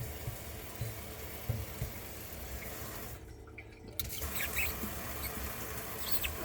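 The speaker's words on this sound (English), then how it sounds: "Let's go ahead and turn the water back on" Water runs and spatters from a Delta Touch kitchen faucet into a sink, a steady close hiss with small drips. It stops briefly partway through, then resumes, with no talk.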